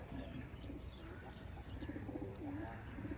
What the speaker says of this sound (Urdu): یہ کبوتر ہیں, ان کو دیکھ لیں پہلے